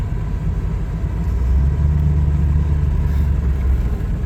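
A big Dodge truck engine rumbles low and steady while driving, with a constant deep drone close by and no talk over it.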